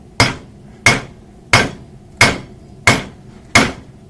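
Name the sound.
hammer striking hot metal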